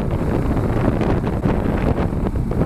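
On a BMW G310GS motorcycle at a demo-day ride, wind buffets the microphone in a continuous loud roaring rush with no pauses.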